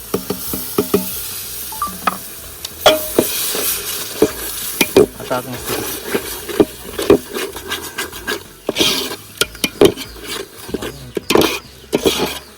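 Spoon stirring and scraping tomato gravy chutney in a pan outdoors by a riverside, with irregular clattering strokes and a soft sizzle throughout, loud and close.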